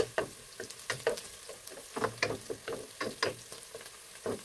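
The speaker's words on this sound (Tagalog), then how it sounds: "So isunod na natin yung ating bawang. Ayan, halu-haluin natin uli." Garlic frying in hot oil in a pan for beef kare-kare, with sharp spattering crackles and repeated stirring scrapes in an uneven rhythm, heard close up with no talking.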